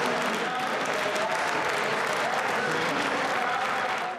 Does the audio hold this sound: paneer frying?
no